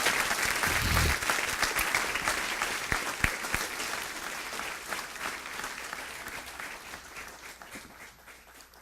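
A church congregation applauds loudly, a dense wash of many hands clapping that starts strong and gradually fades over several seconds, with occasional louder individual claps standing out.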